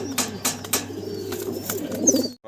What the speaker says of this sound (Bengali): অসাধারণ সুন্দর এক জোড়া কবুতর মাত্র ষোলোশো টাকায়